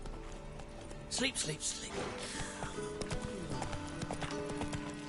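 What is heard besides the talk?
horse Roach galloping in The Witcher 3 video game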